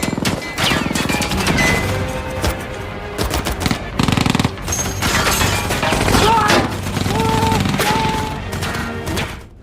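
A war-film battle around a tank: rapid bursts of gunfire and machine-gun rattle mix with heavy booms and crashes. The loud, dense barrage is layered over a musical score, with voices breaking through now and then.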